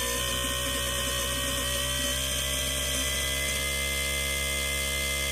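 A BOMA inrunner electric motor whines steadily at close range, its tone rough and stuttering in the first half before settling into a smooth continuous hum.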